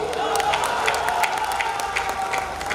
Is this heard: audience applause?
yes